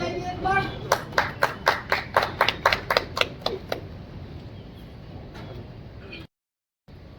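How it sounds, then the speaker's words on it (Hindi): A small group of workers on a work site clap together in a brief burst of about a dozen sharp, close claps that fade out, with light background noise and a moment of silence at the end. "चलिए ओके, आप लोग अपने लिए ताली बजाइए एक बार।"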